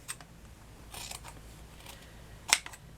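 Scissors snip through a small piece of linen, with faint scattered clicks early on and one sharp, close cut near the end.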